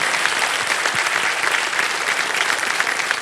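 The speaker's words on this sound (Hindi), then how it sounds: "एक बार दादी के लिए ताली बज जाए" A studio audience on the KBC quiz show applauds a grandmother, with loud, dense, unbroken clapping lasting the whole few seconds.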